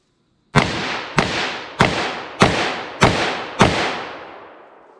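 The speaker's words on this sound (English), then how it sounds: "I'm just going to pull this up, fire as fast as I think I can hit center mass on that target" Six rapid .357 Magnum revolver shots fired at a target, loud and close, evenly spaced about half a second apart, each sharp crack trailing into a short echoing decay.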